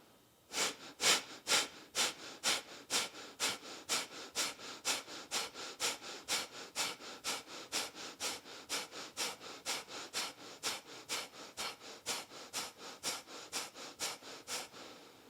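Rapid, forceful nasal exhalations during a yoga breathing exercise repeat in a steady, even rhythm of about two per second, close and clear, with no talking over them.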